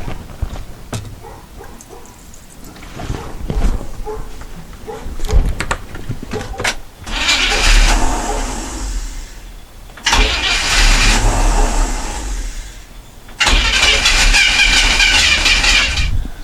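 A 1962 Chevy C-10 with a starter problem is cranked three times, each loud, close starter grind lasting a few seconds, separated by pauses with small mechanical clicks and handling noises.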